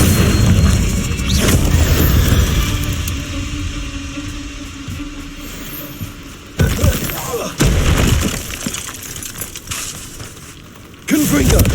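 Repeated Confringo fire-spell blasts in Hogwarts Legacy combat, heavy booming thuds with crashing impacts in a dense, loud game mix, with a sharp burst near the middle and another toward the end.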